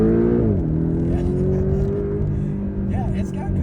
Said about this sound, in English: And I'm going to go ahead and give it a blast. And like I said, let's hear the engine.